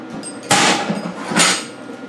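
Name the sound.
tack welding a shifter mount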